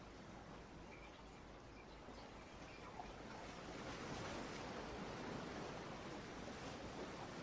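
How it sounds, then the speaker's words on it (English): Ocean waves roll and wash continuously, a steady broadband surf that swells louder in the second half, with a faint wind rush and no voices. "if we could turn the sound up on those waves"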